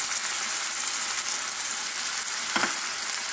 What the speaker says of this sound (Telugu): ఈ ఆయిల్ బాగా వేడెక్కినాక మనం సన్నగా తరిగి పెట్టుకున్న ఉల్లిపాయ,